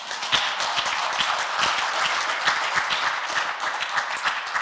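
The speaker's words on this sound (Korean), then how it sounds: "이러면 박수 쳐야 되는데." A lecture audience at a Korean morning seminar on the AI era breaks into applause, dense even clapping that holds steady and fairly loud throughout.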